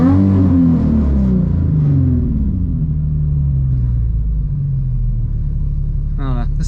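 A Nissan 350Z with a swapped VQ35HR V6 engine and a makeshift old truck exhaust tip revs, its deep exhaust note rising and falling loud and close, with a voice briefly heard near the end.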